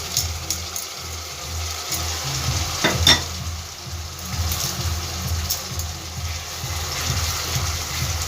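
Ginger garlic paste fries in a pan with a steady close sizzle and bubbling, broken by a few spatula scrapes and stirs, no talk.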